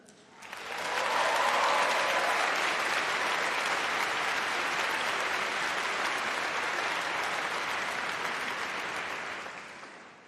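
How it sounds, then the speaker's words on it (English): A large audience at a university graduation ceremony gives sustained applause, a dense, even wash of many hands that rises quickly, holds steady for several seconds and tapers off, fairly distant and without talk. "So let's have some more applause and cheers,"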